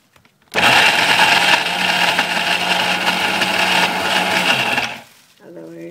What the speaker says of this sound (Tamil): வேர்க்கடலையும் ரொம்ப நைஸாக அரைக்கக்கூடாது, கொஞ்சம் கொரப்பாக அரைச்சி